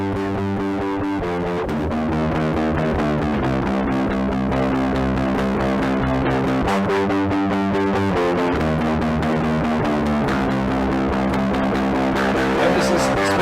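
A bass guitar played through a Joyo bass distortion pedal gives a thick, fuzzy, sustained tone. Notes and chord changes sound loud and continuous with no talking.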